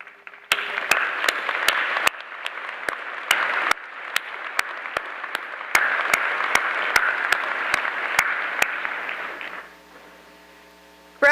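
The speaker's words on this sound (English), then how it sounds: "let us welcome you with a round of applause." Graduation commencement audience applauds steadily for about nine seconds, a dense wash of clapping punctuated by sharp individual claps, then fades to a low hum.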